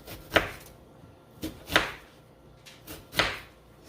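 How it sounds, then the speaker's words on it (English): Kitchen knife chopping an onion on a board at close range: several sharp, separate cuts with uneven gaps between them, no talking. "So what I do is I take my onion, I cut it on up."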